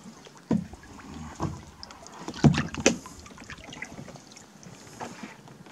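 A kayak glides on a lake toward a cave, its paddle strokes giving several splashy, dripping swishes at irregular intervals, near and clear over quiet water and faint wind.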